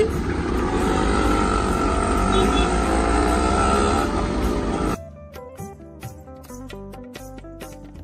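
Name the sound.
auto-rickshaw idling at a traffic signal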